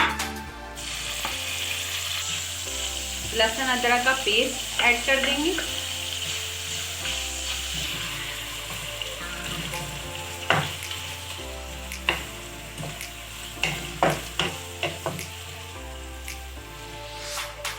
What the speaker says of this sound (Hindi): ये हमने ऑयल गरम कर लिया है, 4 टेबलस्पून ऑयल लिया है हमने। अब इसमें कीमा ऐड कर देंगे